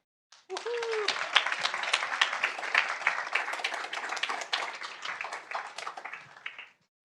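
An audience at a school board meeting claps for a Dreamcatcher student nominee, a dense burst of applause starting abruptly, holding steady for about six seconds, then cutting off, with a brief voice at the start.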